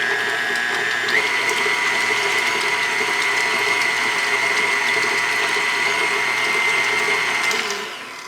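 Four eggs beaten in an electric mixer, a steady mechanical whir with a high whine that shifts up in pitch early on, running continuously close by before spinning down at the end.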